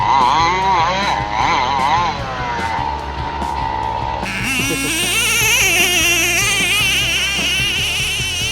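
A Traxxas T-Maxx 3.3 nitro RC truck with a THS pipe and OS carburetor screams at high revs, its pitch rising and falling as it speeds up and backs off, loud and close throughout.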